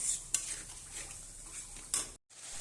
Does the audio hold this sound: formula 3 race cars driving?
no